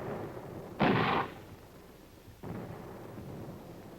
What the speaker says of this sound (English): he would contain this enemy force with artillery and mortar fire